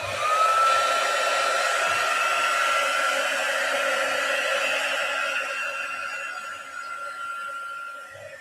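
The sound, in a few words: heat gun drying a surface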